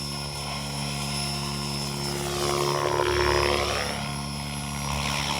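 Radio-controlled model airplane performing sideways rolling funnels overhead, a continuous droning propeller whine that swells and shifts pitch as it passes nearer, then eases off.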